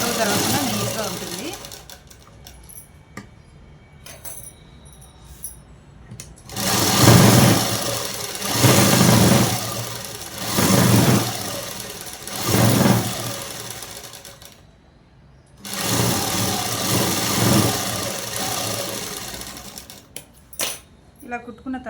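A sewing machine stitches cloth in several loud, rapid bursts of clattering needle strokes, separated by pauses where a person talks quietly nearby.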